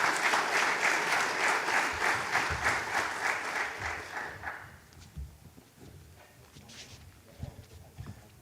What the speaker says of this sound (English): So please join me in giving a very warm round of applause to the